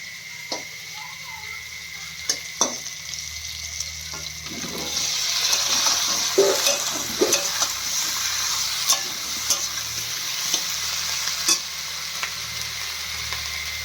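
Okra and potato dropped into a hot pan with fried prawns and crab: the sizzle swells and holds steady, broken by sharp clacks and scrapes as the spatula stirs.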